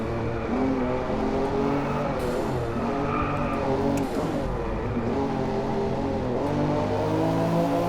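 A race car engine in the DriveClub racing game, droning and shifting pitch with revving and downshifts, tires squealing at times, loud and continuous with no talk.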